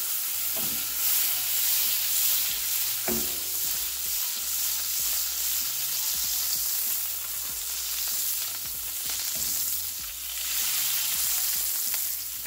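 Butter and lemon juice sizzle around salmon in a pan, a continuous hissing fry close by with a few light clinks, and no one talking.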